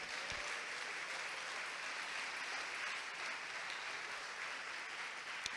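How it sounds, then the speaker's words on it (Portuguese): A church congregation claps together in a steady, continuous wash of applause heard from a distance, faint and evenly sustained throughout with no talk over it. "Vamos aplaudir a Jesus?"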